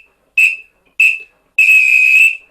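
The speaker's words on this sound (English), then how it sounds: "So he would play 4 whistle blows" A samba leader blows a whistle to signal the group to stop: two short shrill blasts, then one long sustained blast, loud and close, with no other sound.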